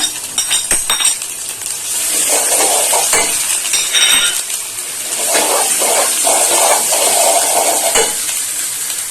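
Cumin powder, ginger, green chili, turmeric and chili powder sizzle in an oiled pan for rui posto, a loud, steady frying hiss broken by a spoon scraping and clinking against the metal as the spices are stirred.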